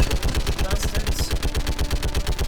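Rapid, steady gunfire in Mass Effect 3, a fast loud rhythm of shots repeating without pause throughout, dense and close with no talk over it.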